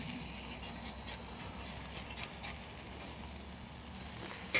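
Food sizzling on the grill grate of a drum smoker, a steady crackling fry with small pops running throughout, close and moderately loud, with no talking.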